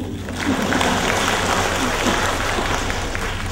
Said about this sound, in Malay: Boleh kita bagi tepukan untuk diri kita.